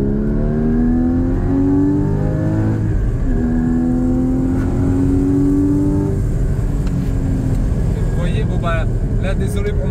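A Porsche Cayman GT4 981's naturally aspirated engine pulls hard down a straight, rising in pitch through repeated loud revving sweeps heard from inside the car, with a brief shift dip midway and some talk over it.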